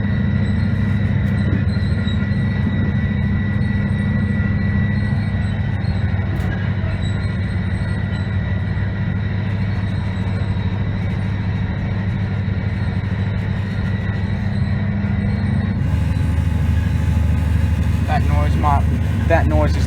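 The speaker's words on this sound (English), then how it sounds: "That noise is the vibration of these seats." Train seats rattle and buzz with a steady low vibration throughout a rail ride on fresh new track, under a constant rumble of wheels and carriage noise.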